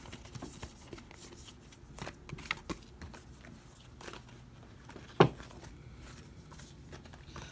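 Tarot cards shuffled by hand, soft irregular riffling and papery flicks, quiet and close, with one sharper slap near the end.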